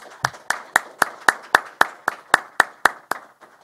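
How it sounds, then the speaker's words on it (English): Steady rhythmic clapping salutes a graduating Detroit police class at their ceremony, about a dozen sharp, evenly paced claps from a small group nearby, slowing and fading at the end. "Let's give our graduating class a round of applause."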